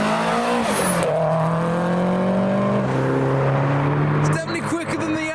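Nissan Pulsar at a crowded car meet revving and accelerating past, a loud rising engine note that steps through gears and fades into crowd noise, with people chatting in the background.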